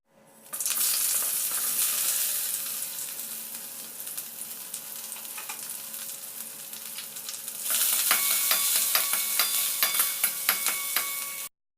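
Fenugreek seeds, small shallots and curry leaves fry in hot oil for a Tamil garlic kuzhambu, a bright, steady sizzle that swells louder midway as more goes in, with the scrape of stirring throughout.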